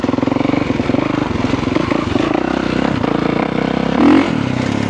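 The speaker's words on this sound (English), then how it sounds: "riding a motocross bike in the bush" A motocross bike idles or runs steadily out in the bush, a loud continuous engine drone with a rapid pulsing beat and a brief swell near the end, no talk.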